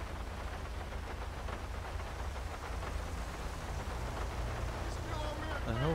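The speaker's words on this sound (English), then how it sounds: "God, that rain is coming down." Heavy rain pours steadily during a rainy night police patrol in the GTA 5 video game, a dense unbroken hiss of downpour filling the scene, with a brief tonal sweep near the end.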